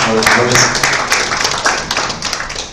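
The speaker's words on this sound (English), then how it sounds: "another applause for him" Audience applause at an agricultural business event, loud dense clapping from a sizable crowd, fairly steady and close, tapering slightly toward the end, with some voices mixed in.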